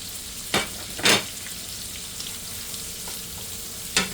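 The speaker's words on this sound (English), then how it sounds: "we're going to put our garlic in" Garlic sizzles in a hot pan for a green bean, sausage and potato casserole, a steady close frying hiss broken by a few sharp stirring scrapes.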